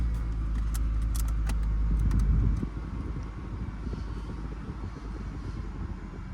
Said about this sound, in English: it's getting cold and the compressor sounds good